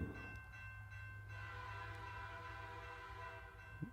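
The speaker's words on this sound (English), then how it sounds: "Get on this train, let's ride." A train rumbles along steadily with low wheel and engine noise while a sustained horn blows in long tonal chords throughout, loud and close, with no talk over it.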